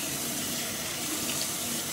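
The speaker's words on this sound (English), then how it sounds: "So we're gonna rinse this off" Water runs steadily from a home tap to rinse a Lush skincare product off the skin, a continuous close hiss and splash with no talk.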